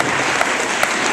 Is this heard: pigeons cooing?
no